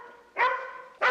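A dog barking in a Western TV episode, one sustained close bark followed by the start of another, loud and alone without talk.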